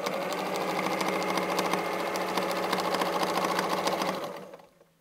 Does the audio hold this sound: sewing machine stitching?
yes